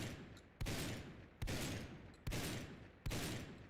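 Semi-automatic shotgun fired in Fallout 4, four sharp, evenly spaced blasts about a second apart, each followed by a decaying roar, fairly quiet overall.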